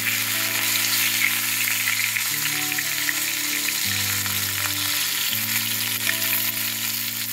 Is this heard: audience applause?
no